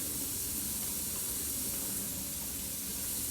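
Onions sautéing in a pan for homemade spaghetti sauce, giving a steady, close hiss and sizzle that holds evenly throughout with no voices.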